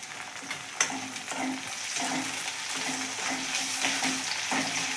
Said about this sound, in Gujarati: આ ટામેટું આપણે અહીંયા થોડું ચડી જાય ત્યાં સુધી સતળાવા દેવાનું છે